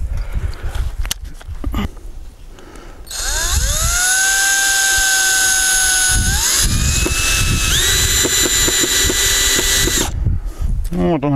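A powered screwdriver bit drives screws into a softwood conifer board for a garden bed, a loud sustained whine that steps up in pitch as each screw bites, with speech and handling noises before and after.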